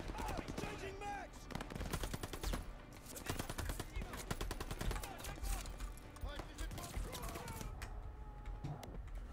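Suppressing machine gun fire in Call of Duty: Vanguard, dense rapid bursts rattling almost continuously over battle noise, with voices talking over the shooting.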